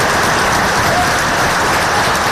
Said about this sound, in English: Applause in the state assembly just before 11:59 p.m. on Thursday